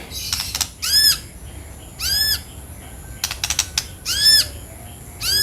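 A caged sono keling songbird calls in repeated clear, swooping whistles close by, alternating with quick bursts of wing flapping as it flutters restlessly.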